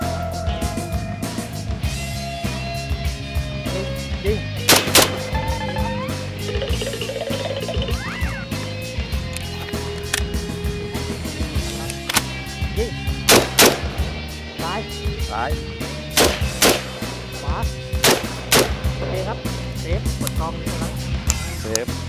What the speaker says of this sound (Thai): ยิงยิง ยิงครับ